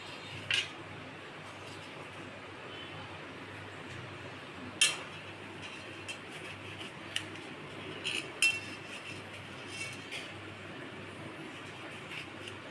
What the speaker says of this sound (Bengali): এভাবে করে সবগুলো টমেটো আর কি আমি কেটে নেব।